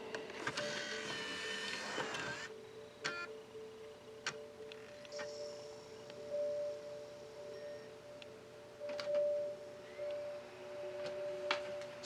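A Nintendo Wii disc drive reads a disc, first a whirring spin-up, then faint clicks, ticks and mechanical whines over a steady motor hum, close and quiet.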